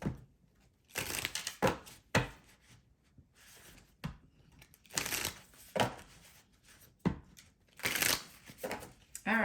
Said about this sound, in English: we're going to put them back in the deck and shuffle again